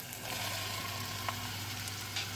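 Steady, close sizzling of onion frying lightly in oil in a pot, an even crackling hiss with a few small pops, no voices.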